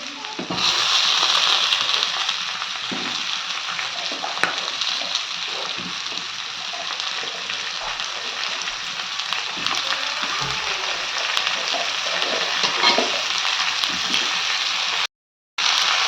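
Cauliflower florets frying with softened onions in a pan, a steady close sizzle and crackle running throughout with light stirring, no voices, cutting out briefly near the end.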